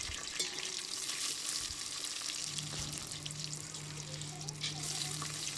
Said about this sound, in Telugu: నూనె వేడయ్యాక షాజీరా, లవంగాలు, మిరియాలు, అనాస పువ్వు, యాలక్కాయలు వేసుకుందాం.